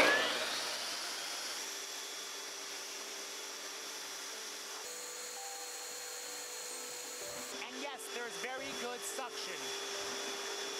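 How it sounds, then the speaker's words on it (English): An IQ tile saw runs with its built-in dust vacuum, giving a steady, broadband whirring hum throughout, and a faint rubbing, scraping texture appears near the end, with no speech. "Turn the saw on."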